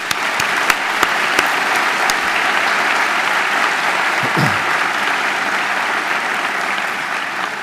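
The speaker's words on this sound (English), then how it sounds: "Let's have one more round of applause for Dr." A graduate commencement audience claps in sustained, dense applause, loud and steady throughout, with a few sharper individual claps early on and a faint voice in the middle.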